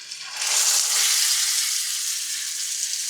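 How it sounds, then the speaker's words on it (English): A pork roast sears in a hot pan, a loud, steady hiss and crackle that starts after a quiet moment and then holds evenly at close range, with no voices. "Okay, I've got the pork seared."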